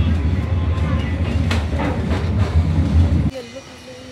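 A train carriage rumbles steadily on the rails with a close, loud low roar and faint clicks heard from inside, then the noise drops abruptly near the end.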